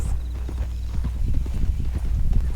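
Horse hooves clip-clopping in Red Dead Redemption 2, a steady run of close, loud low thuds at a brisk walking rhythm with no talk over them.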